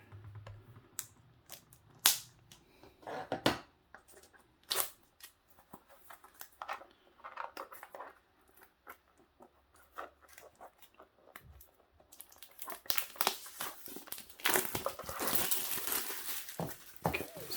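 Plastic packaging around travel toothbrush cases being cut open, with irregular close snips, crinkles and handling rustles that grow busier and louder toward the end.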